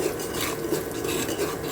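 Semolina roasting in a pan gets stirred continuously, a steady soft scraping and rasping texture, close and fairly quiet with no voices.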